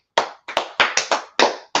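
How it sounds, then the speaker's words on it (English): A group claps hands together in several quick, uneven bursts of applause, close and loud, with short gaps between the bursts and no talking. "Clap it up."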